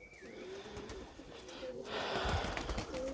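Crested pigeons coo in a loft alongside young birds, with soft, low coos and a few calls under nearby rustling and a faint voice, the background growing busier partway through.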